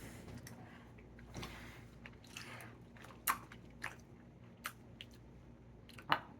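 Blue raspberry lemonade Swedish Fish gummy candy being chewed close up: soft, sticky squishing and biting sounds with a few sharper clicks, quiet and steady without talk.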